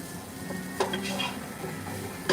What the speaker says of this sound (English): we're going to just stir this in until you can't see the flour no more